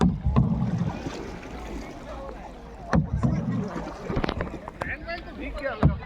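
A small boat moves across Vagamon lake with splashing water and wind buffeting the microphone, intermittent sloshes and knocks up close, while people talk aboard.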